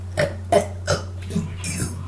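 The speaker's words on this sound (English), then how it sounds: "Do you want to hear me burp my ABCs?" A person burps repeatedly in a quick series, about five short loud belches close to the mic, each one clipped and roughly evenly spaced, as if burping out letters of the alphabet.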